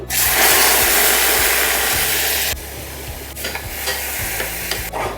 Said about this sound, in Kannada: ಈ ತುಪ್ಪಕ್ಕೆ ಒಂದು ಅರ್ಧ ಚಮಚದಷ್ಟು ಜೀರಿಗೆ ಒಂದು ಕಾಲು ಚಮಚದಷ್ಟು ಹಿಂಗು ಇದಕ್ಕೆ ರುಬ್ಬಿದಂಥ ಪಾಲಕ್ ಪ್ಯೂರಿನ ಸೇರಿಸ್ತಾ ಇದ್ದೀನಿ